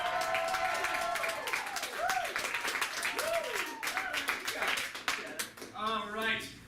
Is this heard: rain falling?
no